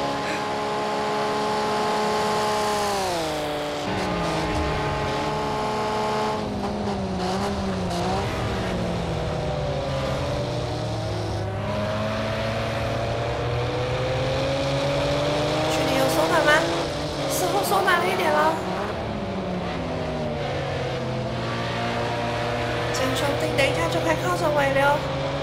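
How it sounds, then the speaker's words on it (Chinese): A Ford Group A race car in Project Cars 2 at Texas Motor Speedway revs hard, its engine note climbing and dropping through gear changes across the lap while a voice talks over it. "我觉得它的引擎声比较好听耶。"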